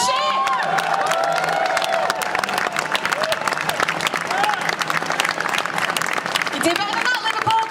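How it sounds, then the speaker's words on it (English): A convention crowd at Liverpool Comic Con 2019 cheers, whoops and claps for Eric Roberts, a dense, loud roar of applause and shouting that carries on steadily throughout. "Everybody give him a cheer!"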